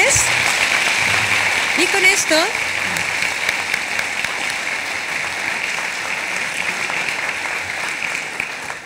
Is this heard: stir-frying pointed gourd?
no